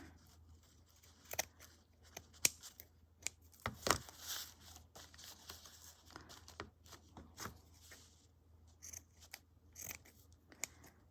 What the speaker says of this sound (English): So I guess I just need to trim this part here.